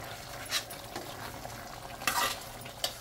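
Green chillies and tomato pieces being stirred in a pan, a low frying hiss with a few brief spoon scrapes and clinks against the pan.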